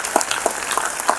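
Students in an audience clap together in a dense, steady burst of applause that carries through the whole moment at a moderate level.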